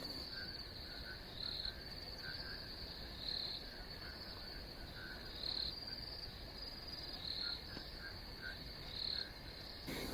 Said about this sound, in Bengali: ঝিঝি পোকার ডাক শিয়ালের ডাক শুনতে পাচ্ছি শুধু